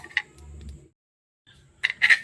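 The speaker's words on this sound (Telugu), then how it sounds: "ఆవాలు చిటపట్టమనాలి" Mustard seeds splutter in hot oil while curry leaf chutney is being made, giving a few sharp close pops and crackles in brief bursts separated by a quiet pause.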